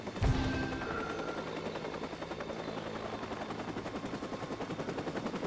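Helicopter in the video game Watch Dogs whirring with a steady rotor chop, alongside bursts of gunfire, sustained and fairly loud with no talking.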